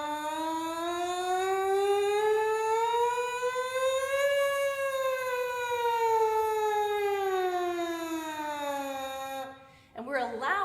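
A French horn plays a siren-like warm-up, one sustained tone sliding smoothly up and then back down, clear and alone for about nine seconds before ending abruptly.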